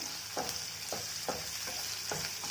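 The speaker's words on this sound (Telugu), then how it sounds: "దీంట్లోనే కొత్తిమీర కూడా వేసుకుందాం. కొత్తిమీర కొంచెం వేగంగానే" Coriander leaves fry in a hot pan for Guntur gongura chutney, giving a steady quiet sizzle with a few soft stirring scrapes spaced through it.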